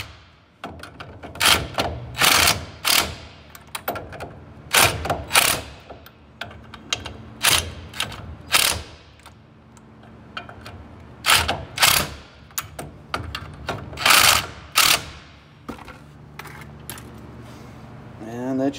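A hand ratchet wrench tightens the bolts on the electric drum brakes of a 2000 US Cargo utility trailer. It makes quick clicking ratchet runs in repeated bursts with short pauses between them, close up.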